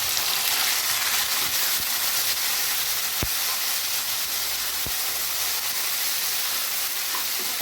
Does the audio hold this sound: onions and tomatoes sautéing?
yes